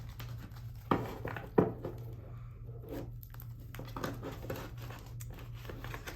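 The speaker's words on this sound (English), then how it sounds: "I'm going to shuffle your tarot cards first before I lay out your oracles." Tarot cards are shuffled by hand: soft riffling and papery crinkles with a couple of sharper snaps, quiet over a low steady hum.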